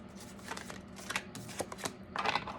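A deck of oracle cards is shuffled close up in several quick riffling bursts with short pauses between them, and no talking.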